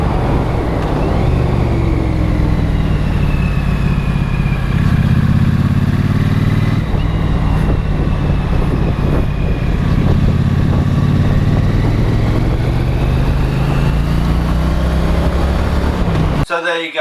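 A Triumph Street Twin motorcycle rides along the road, its engine droning loud and steady close up under heavy wind rush, with a rider's voice talking over it.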